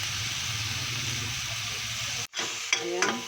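Shrimp paste (alamang) with tomato sizzles steadily in a pan as it is stirred, a continuous frying hiss broken by a brief gap and then a few scraping strokes near the end.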